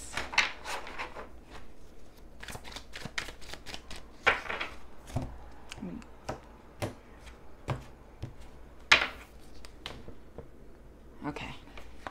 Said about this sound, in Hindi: एक क्विक शफल कर लेते हैं डेक की